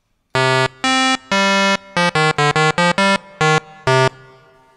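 VCV Rack software synth playing short buzzy tones with its filter opened wide for a bright, harsh sound: a series of loud on-off notes, first a few longer ones then rapid staccato bursts, heard alone.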